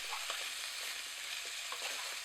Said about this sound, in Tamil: பின் 2 வாழைக்காயை தோல் சீவி சின்ன துண்டுகளாக நறுக்கி சேர்த்து நன்கு வதக்கவும்.